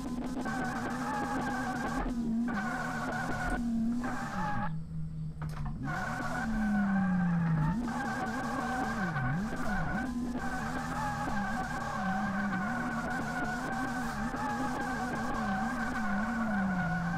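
A drift car in the racing game DRIFT21 on a touge mountain track, engine revving steadily while tires squeal and skid repeatedly through corners, loud and continuous with no talk.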